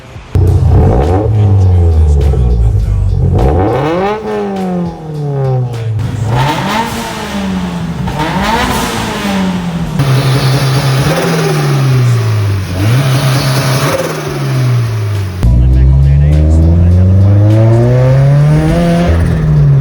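A turbocharged Subaru BRZ revving repeatedly through a Tomei 80R exhaust, rising and falling in pitch through several loud, close throttle blips and sustained pulls.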